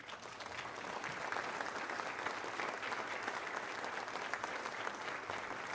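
Audience at an evening valor awards ceremony honoring police departments gives a long, even round of applause, a steady moderate wash of clapping hands with no talk.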